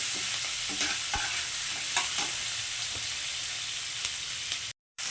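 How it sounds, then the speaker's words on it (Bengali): Sliced onions fry and are stirred in a pan, giving a steady close sizzle with scraping stir strokes throughout and a brief cut-out near the end. "পেঁয়াজটাকে একটু লাল লাল করে ভেজে নেব"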